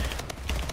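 Rapid gunfire in a video game, a short dense burst of shots and booms filling the moment with no voices.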